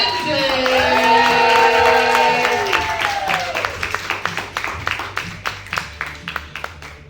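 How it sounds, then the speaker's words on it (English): A comedy club audience claps for the next comic, first as a full burst beneath music, then thinning into a few loud, separate claps near the microphone. "Please start clapping right now for Ashley Lindsay."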